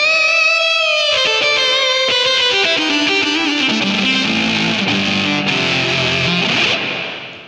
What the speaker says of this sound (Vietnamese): tiếp theo là sử dụng đó là tiếng guitar lead